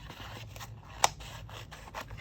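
Scissors cutting around a paper card shape, a few soft snips and papery scrapes close by, with one sharper click partway through, quiet and without talking.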